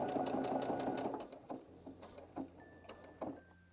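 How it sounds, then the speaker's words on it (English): A domestic sewing machine stitches a lapped zip, running in a close whirring burst and then slowing into a few short separate stitch pulses as it backstitches, with no talk. "just stop at the seam line and do a couple of backward stitches"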